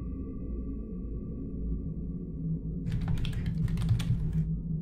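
Typing on a computer keyboard: a quick burst of close, crisp key clicks lasting about a second and a half, over a steady low electrical hum.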